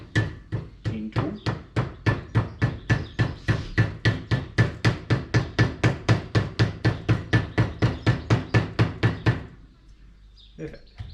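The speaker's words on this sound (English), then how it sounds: "Dead blow hammer, maybe." Rapid, evenly spaced blunt taps of a dead blow hammer seating a seal during Heidts Mustang II suspension reassembly, about three per second, loud and close, stopping abruptly near the end.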